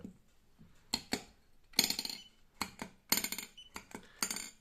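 A metal workpiece on a hardness tester gives a series of sharp, bright metallic clinks and pings, irregularly spaced over a few seconds against a quiet background.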